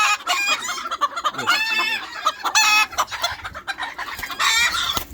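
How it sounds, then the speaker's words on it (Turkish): Chickens clucking and squawking loudly in a scuffle, with harsh, overlapping calls that continue throughout at close range. "Oğlum o tavuklar birbirine girdi lan."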